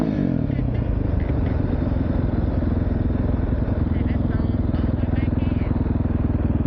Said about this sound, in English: This KTM can rev like nuts